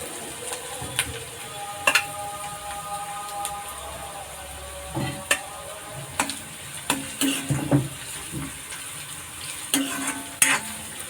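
Onions frying in a pan for pav bhaji, stirred with a utensil: a steady hiss of sizzling oil runs throughout, broken by repeated close scrapes and clinks of the spoon against the pan, with no talk.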